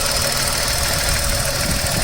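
A Renault Triber engine idles close by, a dense, even rumble with a slight knocking pulse and no voices.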